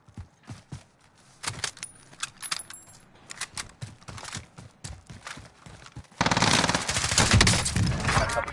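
Call of Duty gunfire, scattered irregular shots and clattering mixed with game sounds at moderate loudness, ending in a dense, loud rattling stretch of continuous noise.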